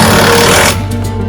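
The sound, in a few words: power tools working outdoors in the rain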